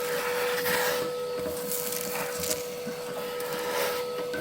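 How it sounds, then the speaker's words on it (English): A vacuum cleaner hoovers ash from inside a multi-fuel wood stove, producing a loud continuous whine and rushing suction with scraping and rattling as the nozzle moves through the firebox. "I'm going to just fire the hoover on, just give it a bit of a hoover up inside there like that."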